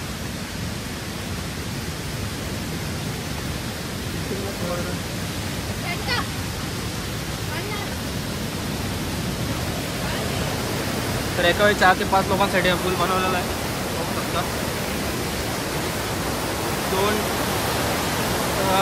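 Rushing water from a stream where two streams meet below a waterfall trail in the ghats, a steady broadband roar filling the whole stretch while someone talks over it.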